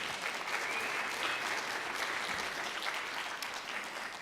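A room full of attendees at a Sierra College equity summit student panel applauds, steady dense clapping that holds at an even level for the whole stretch and fades slightly at the end.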